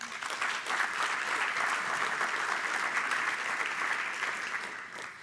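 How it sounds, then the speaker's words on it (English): Sustained applause from a large audience at the Great Miami Riverway Summit, a dense, even roar of many clapping hands heard from a moderate distance that swells and then tapers slightly toward the end. "We should give that a round of applause."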